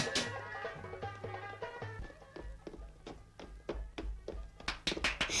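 A series of sharp taps and knocks, spaced irregularly then quickening toward the end, sounds like knocking on a door in a Turkish film scene, fairly quiet with faint music underneath.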